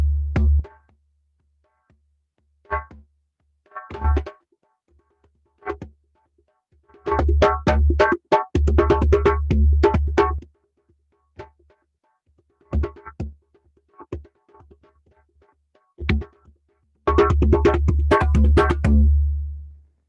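A West African djembe is played in bursts of rapid strokes mixing deep bass tones and sharp slaps, with pauses between flurries, close and fairly loud.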